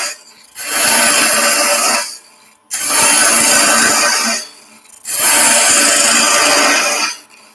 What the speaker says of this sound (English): So we're using 4-inch bowl gouge. We're resting the bevel, cutting larger to smaller.